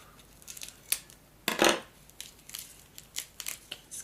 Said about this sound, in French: Un ciseau.